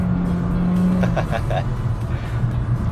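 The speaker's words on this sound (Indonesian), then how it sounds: "Oh, suara mesinnya cukup masuk ke dalam ya." A steady Honda WR-V engine drone fills the cabin with a low, continuous hum, heard from inside the car, while a voice briefly speaks over it.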